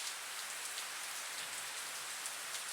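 Steady rain pattering on surfaces, a dense, even hiss with scattered drop taps that holds at a constant level throughout, with no voices.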